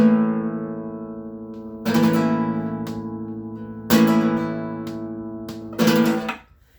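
Flamenco guitar playing a light bulerias compás: ringing strummed chords struck about every two seconds, each decaying before the next, ending in a brief fade.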